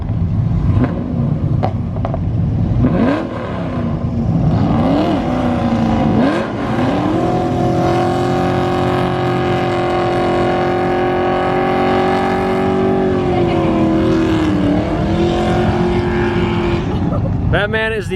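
A car's engine winds up under hard throttle, the pitch climbing and dropping as the transmission downshifts, then holding a strained rising drone; heard from inside with a voice talking over it.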